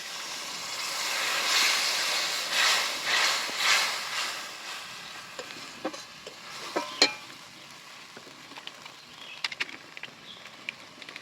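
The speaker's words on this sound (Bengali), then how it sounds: "মশলা ধোয়া জলটা দিয়ে ভালো করে মশলাটা এখন আমি কষে নেব।" Spice paste is stir-fried in a pan with water added, starting as a broad rushing sizzle that swells and fades, then settling into quieter frying with scattered scraping clicks.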